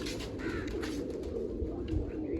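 Pigeons of several ages, adults and young, coo softly and repeatedly at close range amid a steady low rumble of background noise, with no talking.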